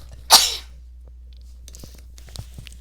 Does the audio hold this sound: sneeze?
yes